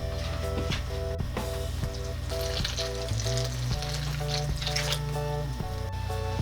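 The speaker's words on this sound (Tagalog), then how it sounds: "Ngayon po na kumulo na itong ating gata" Coconut milk boiling in a pot gives a continuous bubbling, sizzling hiss, joined by steady tonal music throughout.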